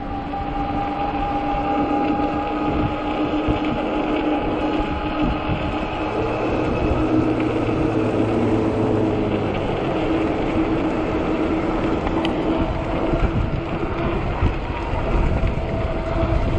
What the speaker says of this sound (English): Oh, fucking wind.